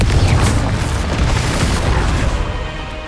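A Confringo fire-blast spell explodes in the Hogwarts Legacy wizarding game with a loud, sustained boom. Deep rumbling energy holds for about three seconds and no voice is heard over it.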